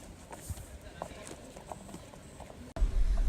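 Donkey hooves clip-clopping on stone steps in Oia, Santorini, several light irregular knocks at moderate distance, followed by a louder rumble near the end; voices talk nearby.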